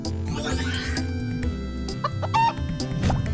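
A rooster effect for the Furious Rooster card in the Card Wars video game: a cluck and crow over steady game music, with a louder squawk near the end.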